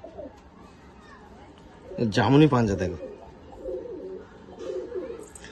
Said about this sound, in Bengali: দেখো দারুণ পায়রা, এর জন্য ঠিকঠাক মাদি পাচ্ছে না